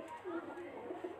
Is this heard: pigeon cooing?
yes